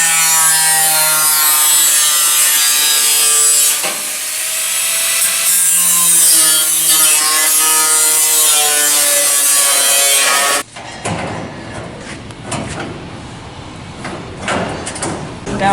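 A part is cut and trimmed to fit on an XA GT Falcon car build. A steady, high, whining tool tone runs for several seconds, then gives way to harsh, rasping, saw-like cutting up close.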